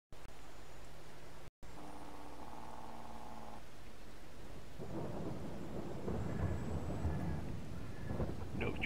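Rain falls in Farming Simulator 22 as a steady hiss, with a low rumble of thunder rolling in partway through, and no one talks.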